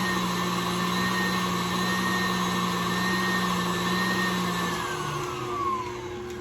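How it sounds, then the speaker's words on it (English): Steady motor whine of a KitchenAid stand mixer whipping heavy whipping cream for strawberry pudding, running continuously and fairly loud with a slight pitch drop near the end. "when you turn your mixer on, don't turn it on full throttle, because you're going to get sprayed with the heavy whipping cream"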